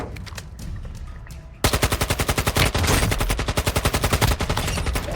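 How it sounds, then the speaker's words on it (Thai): A Kastov 545 rifle fires in Warzone Mobile, first as quieter distant shots, then as a loud, close, rhythmic full-auto burst whose sharp regular reports drive on for several seconds. "ปืนที่ผมใช้มันคือปืนคัสตอฟ 545"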